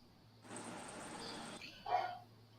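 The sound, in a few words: dog barking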